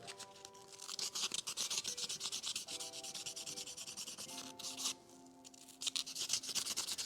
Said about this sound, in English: This little part over here needs to be sanded a little too.